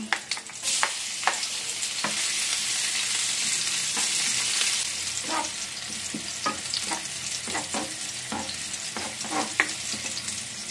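Garlic sautéing in a pan for octopus adobo, a loud constant sizzle with repeated spoon scrapes and stirring clicks, close and without speech.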